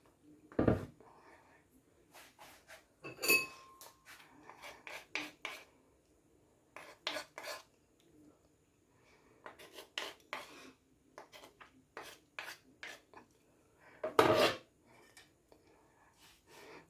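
Marble cake batter scraped from a bowl into a baking tin, repeated rasping scrapes and knocks in short irregular bursts separated by quiet pauses.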